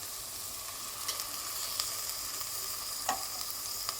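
Prawn biryani masala with mint, coriander and yogurt simmers in a steady soft sizzle while a spoon gives a few faint scrapes and taps. The sound is fairly quiet and even, with no voices.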